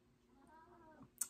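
A cat gives a faint, short meow, followed by a quick click at the end.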